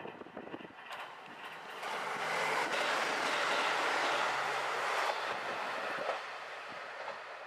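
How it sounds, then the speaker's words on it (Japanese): A JR Central rapid Mie train speeds through a small single-platform local station at full speed, a rising broadband roar with rail clatter that swells, holds for several seconds, then fades as it passes close by. "そのため日中の快速三重号は速度を出して全力で通過をしていきます。"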